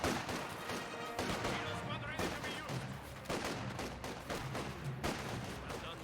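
Squad rifle and machine-gun fire from a Company of Heroes 2 battle against Volksgrenadiers, dense bursts of shots crackling continuously at steady loudness, with game ambience and a commentator talking over it.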